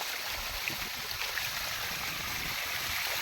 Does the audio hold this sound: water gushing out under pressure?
yes